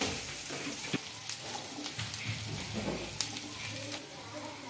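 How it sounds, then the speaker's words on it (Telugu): An onion, curry leaf and dried chilli tempering fries in a pan, a soft steady sizzle with occasional clicks and stirring knocks, no voices over it. "ఈ పోపు బాగా ఫ్రై అవ్వాలండి"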